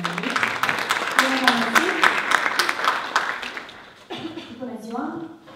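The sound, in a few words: audience applause at a marketing event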